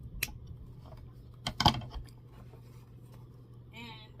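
Scissors cut ribbon for a bow on a pink peony mini wreath, giving a few quiet, brief snips and crisp rustles close up amid faint handling noise.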